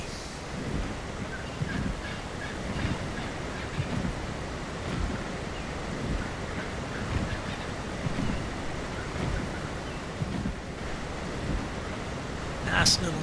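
Steady rushing of a waterfall in the video game ARK: Survival Evolved on the Lost Island map, a constant broadband roar that fills the whole stretch without breaks.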